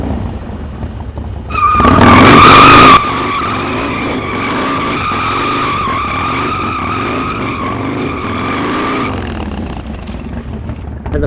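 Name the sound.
Harley-Davidson motorcycle rear tire sliding during drift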